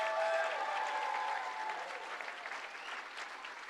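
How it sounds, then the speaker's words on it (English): Sustained applause from a gala audience honouring Vancouver firefighters, a dense wash of many hands clapping steadily and heard from a distance, slowly fading across several seconds. "give a big round of applause to our everyday heroes"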